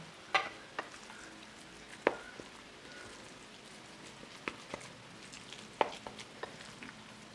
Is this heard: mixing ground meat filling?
yes